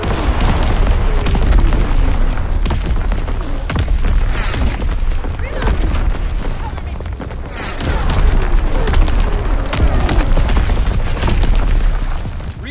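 Artillery battery firing with heavy booms and explosions in Call of Duty: WWII, a dense battlefield barrage of repeated loud blasts and rumbling over continuous noise, with voices talking underneath.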